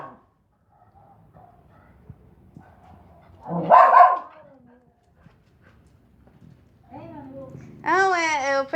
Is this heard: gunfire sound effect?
no